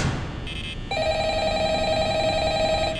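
A telephone rings in the horror game Five Nights in Anime 3D, a shrill electronic ring that starts briefly, pauses, then resumes as a steady buzzing tone over faint background.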